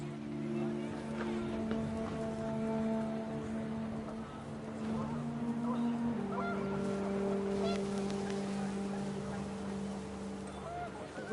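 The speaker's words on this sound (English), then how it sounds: "The wind picked up, and panicked geese appeared and quickly went." Panicked geese in What Remains of Edith Finch: a flock honking repeatedly in layered, overlapping calls over a steady windy rumble throughout, moderately loud and continuous.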